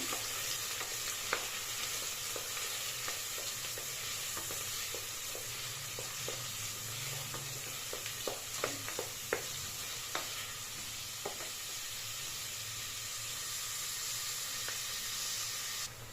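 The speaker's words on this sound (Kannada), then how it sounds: "ಈರುಳ್ಳಿ ಚೆನ್ನಾಗಿ ಫ್ರೈ ಆಗಿ ಸಾಫ್ಟ್ ಆಗಿದೆ" Onions frying in oil for a village-style tomato bath, stirred steadily: a continuous close sizzle and hiss with scattered scraping clicks of the spoon against the pan, no voices.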